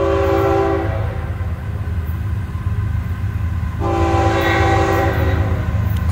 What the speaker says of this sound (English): We got FEC 206 coming here at Wilder Boulevard, Daytona Beach Golf Club.